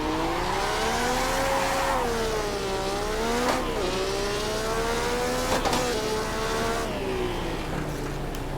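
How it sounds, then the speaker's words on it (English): A fully fledged Formula 1 car laps the Goodwood circuit, its high-pitched engine whine sustained and loud throughout, the pitch climbing and dropping sharply with gear changes and corners, with no talking. "So this is a fully fledged Formula 1 car."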